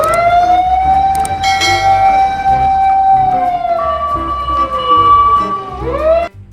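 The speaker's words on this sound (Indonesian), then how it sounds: "Wah, ini ada mobil pemadam kebakaran." A toy fire engine's electronic siren wails loudly and steadily in a sustained tone that slowly sweeps and dips before cutting off, with faint bell-like chimes layered in.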